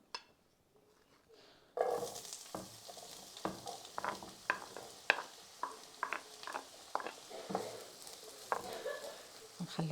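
Onion dropped into hot oil in a frying pan bursts into a loud sizzle after a near-silent start, followed by repeated scraping and stirring knocks against the pan as the frying continues.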